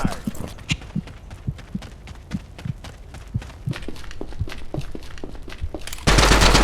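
Gunfire in the survival shooter Project Silverfish: a rapid string of close, punchy shots at a steady automatic rhythm for several seconds, ending in a sudden wash of loud noise.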